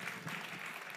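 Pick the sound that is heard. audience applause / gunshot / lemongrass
audience applause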